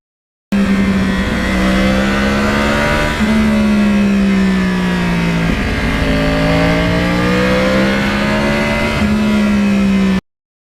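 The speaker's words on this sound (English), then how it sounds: "even times I rode with Billy, I love the exhaust note on this bike so much better than the 1, 2, 3, 4 bikes that I have that are similar" Yamaha R1 crossplane sportbike exhaust holding a loud, steady engine note with several rising and falling revs, continuous from start to finish with no voices.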